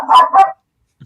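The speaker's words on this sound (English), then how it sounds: "No, that's my dog." A dog gives two quick, close barks in a row, followed by silence.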